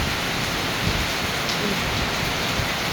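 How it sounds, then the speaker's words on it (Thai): Heavy rain pours down steadily, a dense, continuous hiss of drops drumming on surfaces with no voices. "ฟังเสียงฝนเพื่อนๆ"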